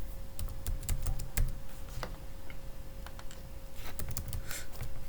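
Keys clatter on a computer keyboard in irregular bursts of sharp clicks, close and clear over a faint steady hum, with no voices.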